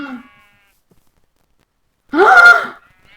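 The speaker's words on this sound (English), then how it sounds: "this basement is here. And it's full of sheep." Sheep bleating in a basement in the video game Existence: a single loud, wavering bleat after a long silence, preceded by the tail of another faint call and followed by a brief trailing sound.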